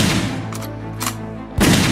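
Gunfire from a TV show plays loudly as a few sharp bangs with reverberating tails, the last blast heavier and fuller, heard without any talking over it.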